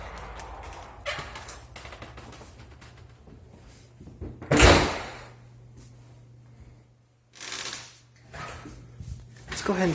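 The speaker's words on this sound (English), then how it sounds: "Oh, the wind's opening the door for us." The front door of a house swings open in the wind during a property walk-through, heard as a sharp thud and rattle amid wind noise and a steady hum, with a person talking around it.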